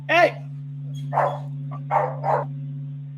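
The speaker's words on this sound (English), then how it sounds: "Wow, sounds like a dog." A dog barks four times in short, spaced bursts, the first sharper and higher, heard over a steady low electrical hum from a radio signal playback.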